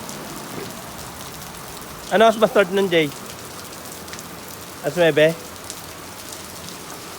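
Rain falls steadily near Mindanao while travelling, a soft continuous patter and hiss throughout, with two short bursts of people talking over it.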